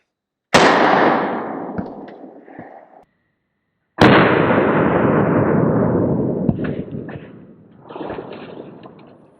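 Two sharp, loud gunshots from a UMP with an 8-inch barrel firing .40 rounds at a US Army issue helmet, each followed by a long decaying outdoor echo and some faint clatter.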